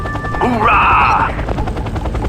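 An Apache attack helicopter in the video game Act of War: Direct Action roars with loud rotor thrum and rattling bursts of gunfire, close and dense, while a voice speaks over it.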